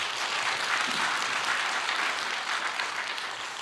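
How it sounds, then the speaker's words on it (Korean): A church congregation at a dawn prayer service breaks into applause, a dense, even wash of many hands clapping that holds steady throughout and fades slightly at the end. "여러분 박수 한번 해주세요"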